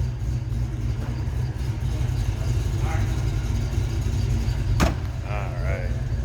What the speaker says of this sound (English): What a great sounding car. Like I said, a little cam to it.